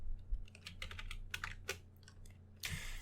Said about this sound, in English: let me just type here headers equal